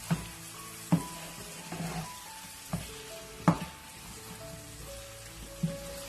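Spoon stirring yogurt into Turai Gosht in a cooking pot: soft wet squelching and scraping with a few sharp knocks of the spoon against the pot, close and fairly quiet.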